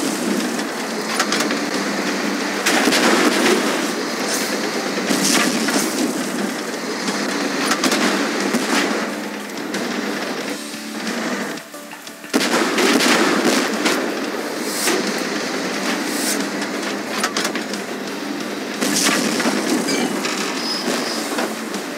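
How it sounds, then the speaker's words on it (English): Tank cannons firing during a Tank Force video game battle on a Trafalgar Square map, a dense stream of loud bursts and crackling impacts running almost unbroken, with a brief lull near the middle. "Shooting!"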